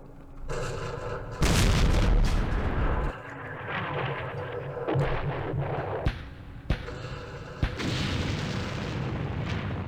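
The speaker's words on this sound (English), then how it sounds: "We'll just wait for the artillery and we'll save it." Artillery fire and explosions from the Vietnam War strategy game Campaign Series Vietnam, Battle of Hue: dense, rumbling booms, one heavy blast near two seconds, then sharp impacts at irregular intervals over a continuous roar of battle.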